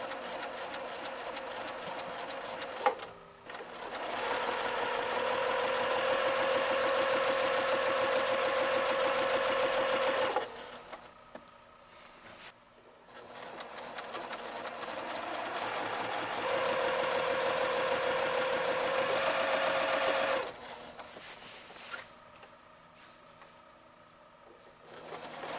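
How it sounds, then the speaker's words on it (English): Sewing machine stitching a hammock, running slowly in two long bursts of rapid mechanical whirring and clatter, close and fairly loud, separated by quiet pauses. "once I get my first row of stitching in,"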